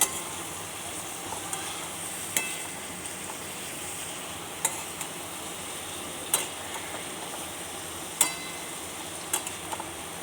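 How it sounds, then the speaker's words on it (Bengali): Boiled vegetables for semolina upma are stirred in a pan: a steady soft sizzle with a spoon knocking against the pan every couple of seconds, close and clear, with no talking. "সেদ্ধ সবজিগুলো। এবার আমি নাড়তে থাকছি।"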